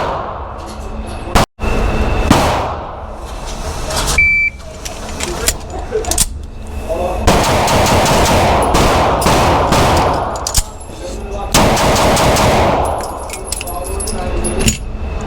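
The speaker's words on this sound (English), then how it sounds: "reload, 5 more shots." Rost Martin RM1C pistol firing strings of shots at an outdoor range, loud sharp reports in quick succession with a reload pause, a voice speaking over parts of the string.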